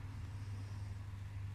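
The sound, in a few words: Jeep being driven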